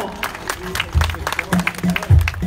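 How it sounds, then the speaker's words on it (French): A crowd claps in a burst of scattered applause for a veteran at a race prize ceremony, with a few voices murmuring underneath. "Applaudissements s'il vous plaît pour le premier vétéran"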